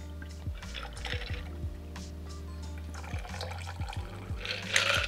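A martini is strained into a cocktail coupe, liquid trickling and dripping with faint ice clinks, quiet and close, ending in a slightly louder splash.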